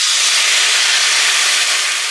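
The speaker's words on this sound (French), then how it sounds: "Je vais venir déglacer au vin blanc." White wine is poured over onions in a hot pan, releasing a loud, continuous steamy hiss that fills the whole moment evenly, with no voices.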